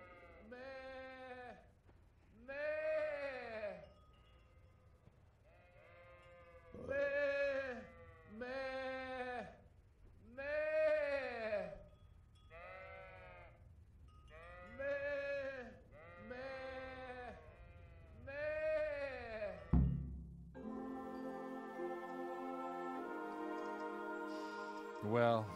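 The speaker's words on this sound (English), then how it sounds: "Why are we chasing sheep in a field?" Sheep in Kingdom Come: Deliverance bleat again and again in a field, a run of wavering, nasal calls close by with short gaps between them, then a musical tone takes over near the end.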